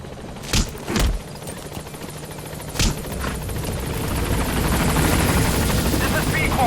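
A support helicopter in Metal Gear Solid V approaches a landing zone, its rotor thrum swelling steadily louder and closer, with a few sharp thuds early on and a voice speaking over it.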